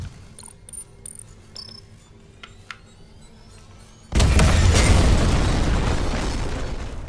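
A detonation in the Dead Space remake video game: quiet mechanical clicks and hums give way to a sudden loud, broadband blast at about four seconds that roars on and slowly fades to the end.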